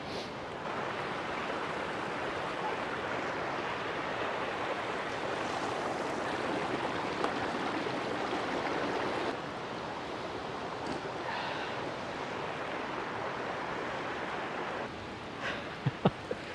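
Khamosh Waterfall pouring down, a steady broad rush of falling water at moderate distance, continuous and even, with a few faint knocks near the end.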